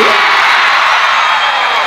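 At a 2018 Campeche festival show, a big crowd roars and shouts loudly for the performer, a dense, continuous wall of cheering and yelling with no pauses.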